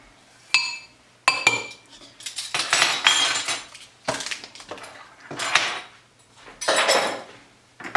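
Raw brownie ingredients, including salt and chia seeds, are mixed in a bowl with a utensil, producing intermittent scraping and clinking strokes in bursts, close up and moderately quiet.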